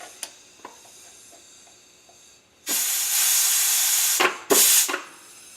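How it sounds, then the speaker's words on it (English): Compressed air blown through the hollow bolt of a TH400 transmission's center support sets off a loud, continuous hiss lasting over a second. A second short hard blast follows after a brief pause, and a few light clicks come before it. "we want to go ahead and just air check that everything's working with the center support"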